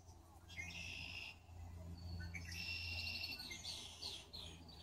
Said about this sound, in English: The birds singing along